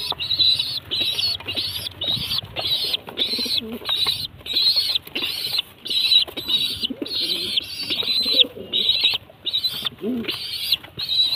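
A family of pigeons with chicks at a feeding spot gives soft cooing and rapid, rhythmic high cheeping bursts that repeat steadily, close and clear, with light shuffling in between.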